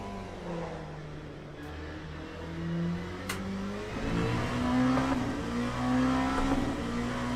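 Race car engine in the Le Mans Ultimate sim racing game revving repeatedly up toward the red line, rising and falling harmonic whine growing louder in the second half, with no voices over it.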